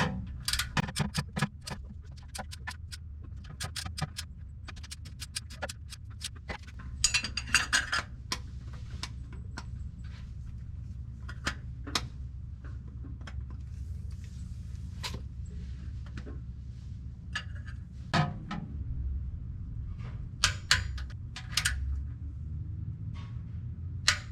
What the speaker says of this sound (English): These oil pan bolts get torqued down to 21 foot-pounds.